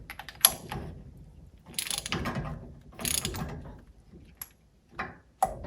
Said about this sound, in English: We will now grab the 15/16 socket and carefully tighten it.